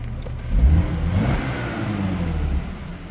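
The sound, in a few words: car engine revving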